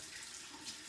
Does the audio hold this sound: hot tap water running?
yes